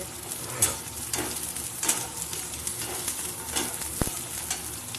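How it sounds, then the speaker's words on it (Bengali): Shrimp are stirred and fried in a kadai for chilli prawns, a continuous crackling sizzle with occasional scrapes and a single metallic knock, close by. "এইগুলো এবার ভালো করে আমি একটু কড়াইতে নেড়ে চেড়ে নেবো যতক্ষণ না এটার কালারটা চেঞ্জ হচ্ছে"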